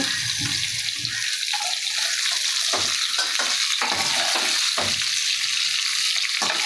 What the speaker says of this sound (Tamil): இது வெங்காயத்தை இப்போ நல்லா வதக்கணும்